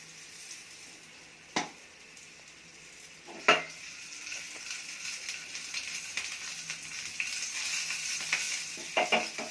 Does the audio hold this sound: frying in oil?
yes